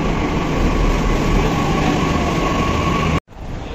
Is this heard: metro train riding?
yes